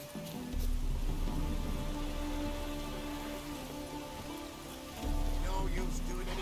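Steady rain pours in the game The Witcher 3, a dense, even patter close by with a low rumbling undertone that swells again near the end, heard alone without speech.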